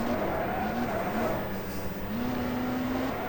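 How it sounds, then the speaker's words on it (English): A touring race car brakes hard with tyre squeal at Thruxton in the 1987 British Touring Car Championship: loud, continuous engine and tyre noise with a wavering tonal whine throughout, close and without talk. "very late on the brakes."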